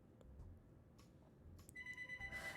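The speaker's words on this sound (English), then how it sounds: "That's the home phone nearby." A home landline telephone rings nearby, a faint electronic trill starting partway through and repeating over a quiet indoor room.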